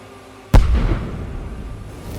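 A drone strike hits a Russian tank between turret and hull, a single sharp, heavy blast followed by a rumbling decay heard from a distance.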